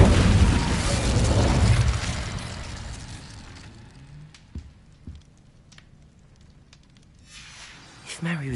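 A fire spell blast in the Hogwarts Legacy video game opens with a loud, roaring whoosh that fades over a few seconds into quiet, broken by a few sharp pops and thuds, then a brief burst near the end.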